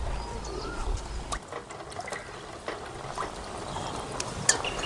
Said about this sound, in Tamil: தண்ணி ஊற்றி நல்லா கரைச்சி விட்டு ஊற்றிக்கலாம்.